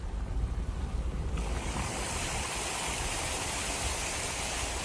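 A car drives through deep flood water on a flooded California road, with a steady wash and surge of water against the vehicle, close, mixed with wind-like rushing noise.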